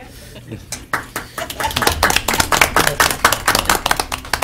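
Applause at a county social services board meeting: scattered claps build into a brisk, fairly close round of clapping that carries on to the end, with a voice briefly heard near the start.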